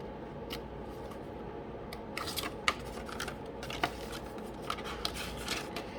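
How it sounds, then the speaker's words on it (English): Scissors cutting around a paper stencil, quiet crisp snips and rustling paper in uneven clusters, close but faint, with no voices. "But I'm just going to continue cutting all the way around."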